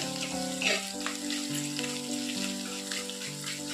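Chopped ginger fries in hot oil in a pan for a fish curry, a lively close sizzle with crackling bursts continuing steadily throughout.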